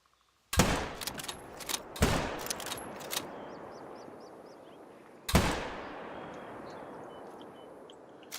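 Loud, close rifle shots fired at moose while hunting in the game Call of the Wild, three sharp cracks with long ringing echoes between them and a faint bird call in the background.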